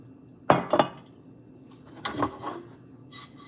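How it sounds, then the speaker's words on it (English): A utensil scraping and clinking against a pan as sesame seeds are stirred for a Khmer glutinous rice ball dessert, with a few sharp close knocks followed by softer scraping strokes. "I have to keep stirring it because I don't want to burn my sesame seed."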